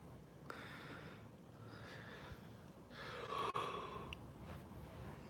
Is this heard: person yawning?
yes